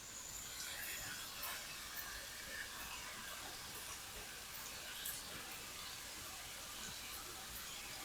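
Ground beef fries in a pan with a constant, quiet, dense sizzle and crackle that holds steady throughout, with no voices.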